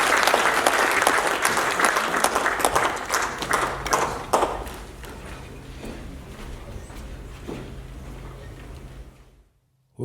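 A conference audience applauds in a hall, loud sustained clapping that thins and tapers over several seconds and then stops abruptly.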